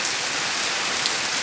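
A downpour of heavy rain makes a constant, dense, close hiss with no break over the short span.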